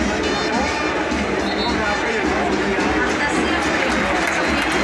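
Dense, steady roar of a full football stadium crowd at a Belgrano versus Platense Argentine league match, broad applause and cheering washing continuously across the whole stretch with no pauses.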